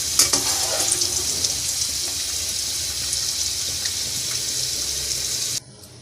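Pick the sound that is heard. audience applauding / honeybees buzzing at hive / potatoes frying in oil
potatoes frying in oil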